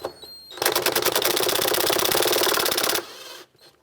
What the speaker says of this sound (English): Next, I'm going to loosen up this clamp for the air box here with a 10mm socket.